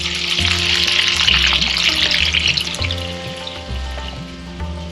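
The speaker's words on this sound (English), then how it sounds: "So all the sabjis right now are getting fried" Vegetable sabjis fry in large pots in a busy temple kitchen, a steady loud sizzle under clanking utensils and low hum, with brief stirring and pouring sounds.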